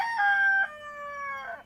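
A rooster crows once in a village home setting, a clear, loud drawn-out call with sustained tones that rise and then hold before tapering off, heard alone without speech.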